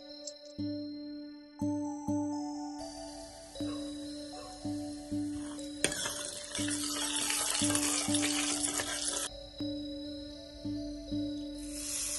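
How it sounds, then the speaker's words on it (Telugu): Oil sizzling as mustard seeds, cumin, turmeric and asafoetida go in as a tempering for red chilli pickle, a steady crackle and spatter with repeated stirring scrapes, close up, with no talking. "నూనె వేడయ్యాక ఆవాలు జీలకర్ర పసుపు ఇంగువ వేసుకొని బాగా కలుపుకొని పచ్చడికి పోపు పెట్టుకోవాలి"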